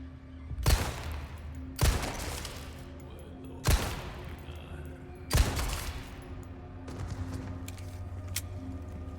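Pistol shots from the video game Resident Evil 4 Remake: four sharp, loud reports at irregular intervals over a low, steady game ambience, with no talking.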